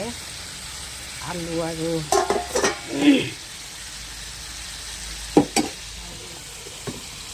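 Okra and potato frying in a pan in a home kitchen, a few bursts of sizzling and stirring clatter, then quieter background with brief sharp knocks.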